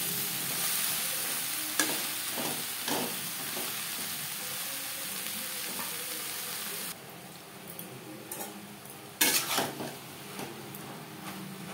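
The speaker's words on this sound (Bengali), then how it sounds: "পেঁয়াজের সাথে ধুনুল বেশ ভালো করে মিক্স করে দেব" Chopped ridge gourd is stirred into frying onions in a pan. A continuous sizzle runs throughout, broken by scraping strokes and occasional knocks of the spatula, heard close with no talk.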